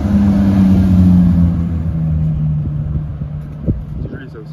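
Novitec-modified car revving loudly in a city street, a deep roaring engine note that fades as it pulls away, leaving a quieter street rumble with a faint voice.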